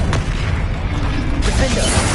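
Magical blast spells Bombarda and Confringo go off in Hogwarts Legacy, giving a couple of bursting explosive pops amid dense continuous combat noise and clanking effects.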